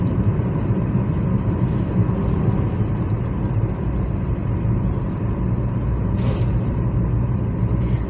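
Steady low rumble of a car driving along a road, a continuous engine and road drone with no break, heard from inside the vehicle.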